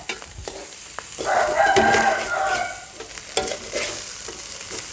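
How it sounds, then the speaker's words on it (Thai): Egg and winged beans stir-fry in a pan, giving a steady sizzle with scraping and stirring clicks that swell in the middle and ease off toward the end, with no talking. "กลับพลิกกลับไปกลับมาจนไข่สุกค่ะ"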